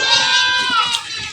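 A goat lets out a single close, drawn-out bleat lasting just over a second, wavering slightly as it fades.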